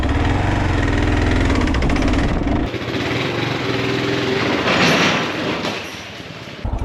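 A diesel engine cranks loudly but too slowly, with a rhythmic chugging, then drops to a lower mechanical churn that never catches and fires.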